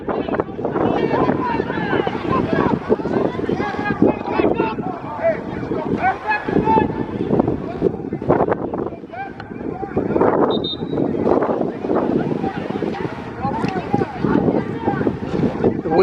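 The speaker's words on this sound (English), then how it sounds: "The wind is definitely playing a factor in this game." Wind buffeting a microphone outdoors at a semi-pro football game, a constant rumbling roar lasting throughout while a voice talks underneath.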